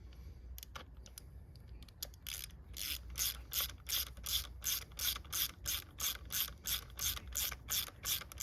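A ratchet tightening spark plugs on a 2017 Hyundai Elantra clicks rapidly and closely in even bursts of pawl ticks, with a few hesitant clicks first and then a steady back-and-forth rhythm.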